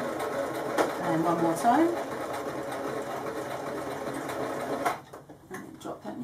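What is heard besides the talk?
sewing machine back tacking while sewing a bookmark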